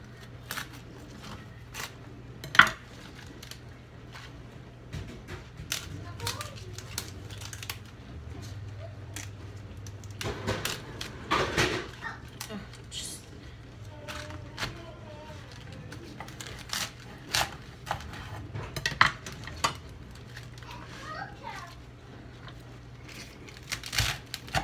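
A knife chops through fresh collard greens on a cutting board: crisp, irregular slicing clicks and crunches, close and fairly quiet, spread across the whole stretch over a low steady kitchen hum.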